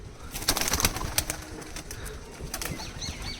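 Shaki teddy pigeons held in the hand give soft cooing and a few quick wing flaps, close and moderately loud against faint background noise.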